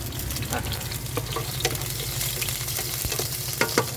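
Onions being stirred in a sizzling frying pan, with scraping stirs and steady frying hiss, a few sharp utensil clicks near the end, and faint talk in the background.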